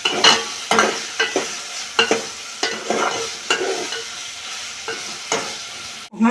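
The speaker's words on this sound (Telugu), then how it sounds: "కొంచెం వేగాలి ఎండు చేపలు అయితే మంచి వాసన వస్తున్నాయి" Dried fish frying in a pan, stirred with a regular rhythm of scraping strokes about once a second over a steady sizzle, close and clear.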